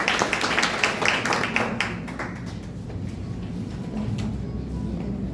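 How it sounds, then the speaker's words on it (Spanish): Audience clapping for an economist welcoming her at a hall commemoration of the Alfarista Revolution, brisk close applause that thins out after about two seconds into a quieter room murmur. "Fuerte el aplauso."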